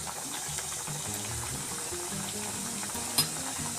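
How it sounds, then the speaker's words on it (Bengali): Mughlai paratha frying in hot white oil gives a steady, even sizzle that stays at one level, with a single small pop near the end and no voices. "আস্তে আস্তে তুলে আমি তেলে ছেড়ে দেব।"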